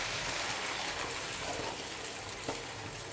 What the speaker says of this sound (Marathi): मी दोन वाट्या दूध घेतलं आहे ते घालून घेते